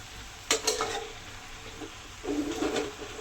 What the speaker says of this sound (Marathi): तर आता आपण सर्व भाजी मिक्स करून घेऊया